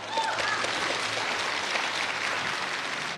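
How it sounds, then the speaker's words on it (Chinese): A studio audience on a televised relationship-dispute show breaks into sustained applause, a dense, even patter of clapping lasting a few seconds. "台下响起的一片掌声就足以证明了一切"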